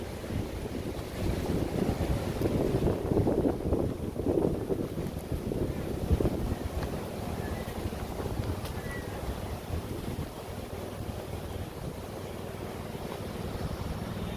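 Wind blows steadily outdoors, a loud, continuous low buffeting rumble across the microphone that gusts harder early on and then settles, with no voices.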